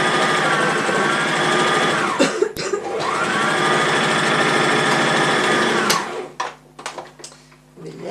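Sewing machine stitching a skirt seam, a loud close whirring run of rapid stitches that pauses briefly, resumes for several seconds, then gives way to scattered clicks and handling noises.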